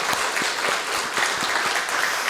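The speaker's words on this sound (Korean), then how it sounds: "우리 큰 박수로 우리 격려해 주시기 바랍니다" A church congregation applauds its choir at a Sunday worship service, producing dense, loud, continuous clapping from a large crowd with no talking.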